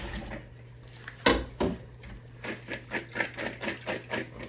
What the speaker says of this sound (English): I'm going to strain the water off these potatoes.